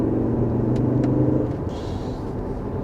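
A Volvo V70 R Design accelerates with a deep engine rumble that rises in pitch, heard from inside the car at moderate loudness with no talk.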